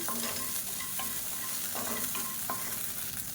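Salt dry-roasting in a pan for idli podi, stirred with a spoon that scrapes and clinks against the metal several times over a constant close sizzle, with no talking.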